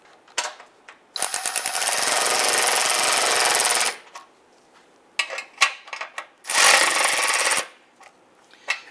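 A power tool tightens bumper bolts on a 2002-2008 Dodge Ram 1500, two loud sustained buzzing runs a few seconds each, separated by short clicks and clanks of handling.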